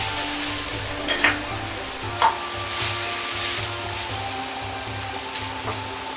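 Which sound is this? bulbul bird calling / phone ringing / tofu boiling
tofu boiling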